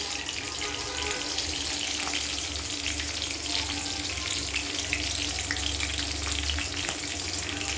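Chilies frying in hot oil, a dense continuous loud sizzle and crackle that stays close and even throughout, with no talk.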